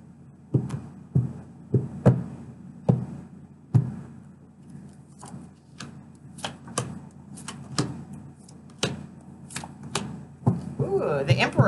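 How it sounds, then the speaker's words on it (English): Repeated crisp riffling and slapping of tarot cards being shuffled close by, in short bursts with pauses, with faint background noise. "last shuffle"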